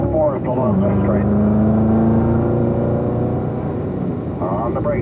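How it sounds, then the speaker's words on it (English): A car on a race track accelerates hard along the straight and shifts up to fourth gear. The loud engine note climbs close by, and a voice talks over it. "accelerate hard as we roll into the throttle and shift to fourth along the straight."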